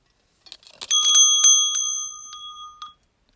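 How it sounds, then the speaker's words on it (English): A bright bell rings in a stage performance of Shakespeare's Macbeth, a quick cluster of clear metallic strikes with sustained ringing tones that decay within a couple of seconds. "The bell invites me."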